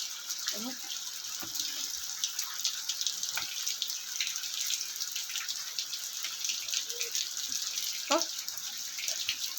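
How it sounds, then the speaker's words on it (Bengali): Rain falls outdoors in a steady, even hiss of drops, with occasional faint sounds mixed in over the continuous patter. "দেখতে পাচ্ছ এখানে বৃষ্টি পড়ছে"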